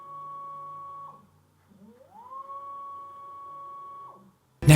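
A Rhino Evo motorized camera slider runs at speed 25, giving a steady, close electric whine that holds for about a second, pauses briefly, then rises in pitch and settles into another sustained tone before cutting off with a short click.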